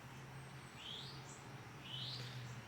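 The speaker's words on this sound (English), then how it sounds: "listen to the birds." Birds chirp outdoors in two short, rising calls about a second apart, faint and a little distant over a low, steady background hum.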